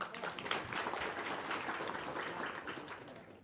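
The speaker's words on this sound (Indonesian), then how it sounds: "Tepuk tangan dulu dong." An indoor audience at a testimonial session claps together in a short burst of applause, dense and moderately faint, tapering slightly over a few seconds.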